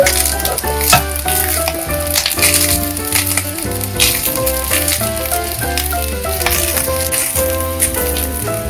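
Herb rice with coriander, white pepper and seasoning is stirred in a hot pan, giving steady sizzling and frying with scraping utensil strokes throughout and no talking.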